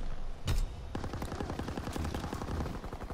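Bren light machine gun firing in a video game: one early burst, then a sustained rapid stream of loud, close shots in steady rhythm, with no talking.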